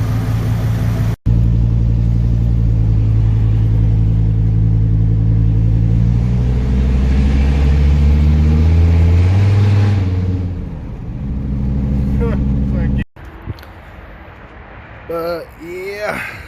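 A V10 car engine runs with a deep, steady rumble that rises and swells as it revs, then drops away briefly before idling again with some clatter and short bursts of sound near the end.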